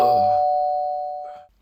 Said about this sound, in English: the doorbell woke me up.